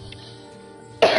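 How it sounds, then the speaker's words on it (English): A single short, raspy cough breaks in near the end after a stretch of quiet, low room hum, from someone whose voice is rusty. "Sorry if I cough a lot."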